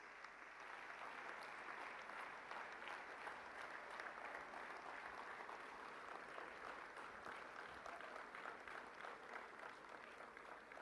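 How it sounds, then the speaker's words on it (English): Thunderous applause from a summit audience in Gandhinagar for India's Prime Minister, a dense, steady roar of clapping that holds at an even level throughout. "for his address with a thunderous round of applause"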